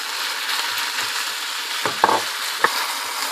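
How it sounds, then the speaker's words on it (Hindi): Minced meat frying with garlic and tomato in a pan, an even close sizzle with a couple of sharper clicks and scrapes from stirring near the end. "अब मैं कीमा डाल देती हूँ ना।"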